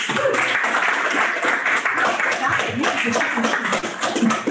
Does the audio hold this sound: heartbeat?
no